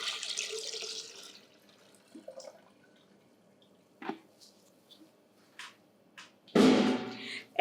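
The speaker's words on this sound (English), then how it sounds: "I'm going to pour the distilled water into the beaker" Distilled water is poured into a clean beaker while making a foaming face wash, with a short splashing pour at the start, scattered drips and clinks, and a louder pour near the end.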